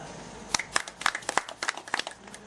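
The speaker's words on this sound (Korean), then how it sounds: "박수" Attendees at a Red Cross anniversary planning meeting applaud, a short burst of scattered hand claps from a small group in a room, fairly faint and irregular, lasting about two seconds.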